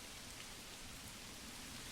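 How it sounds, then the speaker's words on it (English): Steady rain in the medieval city-building game Manor Lords, a soft, even hiss of falling drops on surfaces that stays constant and faint throughout, with no voices. "So as you see, rain's here."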